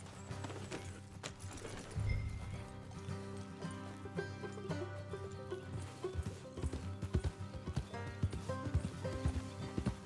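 Horse hooves beat a steady galloping rhythm in the Western video game Red Dead Redemption 2, close and fairly quiet, with tack jingling and music over the clatter.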